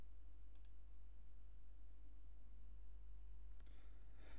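Two crisp computer mouse clicks, a few seconds apart, sound close against a low steady background hum while navigating WHM server settings.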